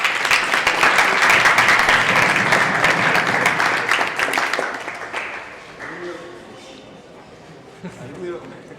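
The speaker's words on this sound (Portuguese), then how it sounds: "Uma salva de palmas." A seated audience at an urban planning talk applauds an honoured neighbourhood association president, a full burst of clapping that fades away after about five seconds, leaving quieter room sound and a few voices.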